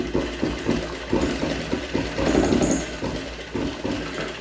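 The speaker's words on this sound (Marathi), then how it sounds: "ह्या बाजूला सुद्धा आपण टिप मारून घेणार आहोत।" Sewing machine stitching pleats along the side of a cloth tie-string mask, a steady mechanical run with rhythmic stitching pulses throughout, close and moderately loud with no talk.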